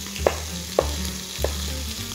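Pork browns in a hot pan with a steady, close sizzle, while three sharp scraping knocks mark the meat being turned onto its other sides.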